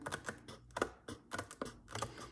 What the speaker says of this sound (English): take my scissors, again, just as close to the coils as possible